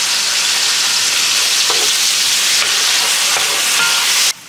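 Bacon rendering down in olive oil in a pan, sizzling and crackling loudly and steadily throughout, with a few sharper pops, then cutting off abruptly near the end.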